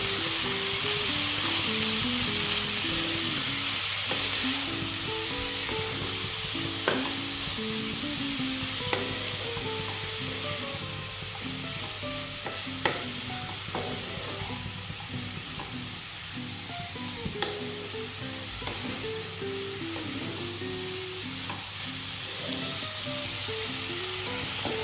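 Spinach and potatoes frying on a medium gas flame, a steady close sizzle and hiss throughout with scattered clicks and scrapes as they are stirred, no voices.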